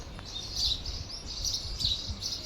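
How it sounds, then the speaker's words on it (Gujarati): Sparrows chirp on a quiet morning, thin high tweets repeating in small bursts at moderate distance over a low background hum. "ચકલીઓ ઝીણી ચી ચી ચી ચી ચી ચી કરે છે."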